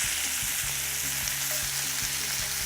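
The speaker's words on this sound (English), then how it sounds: "the sesame seeds have toasted and they're sizzling away in all that lamb fat." Steady, loud sizzling of lamb chops frying in hot lamb fat with toasted sesame seeds, with soft repeated thumps and scraping of a pan underneath.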